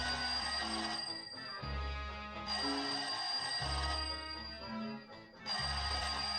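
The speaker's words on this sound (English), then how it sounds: "Sounds like the phone to me." A telephone rings repeatedly in a radio drama, in steady bursts separated by short pauses, clear and prominent with no talk over it.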